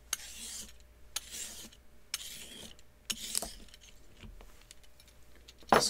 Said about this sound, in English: use a vegetable peeler like this. So just going down and peeling off